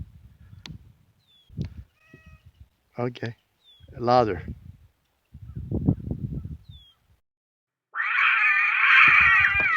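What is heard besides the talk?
cat meowing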